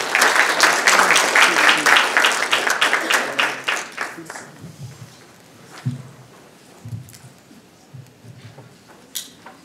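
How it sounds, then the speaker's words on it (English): A panel discussion audience applauds a South African member of Parliament, a loud burst of many hands clapping that fades over several seconds into scattered claps, footsteps and small thuds as he walks up. "A round of applause for Honourable"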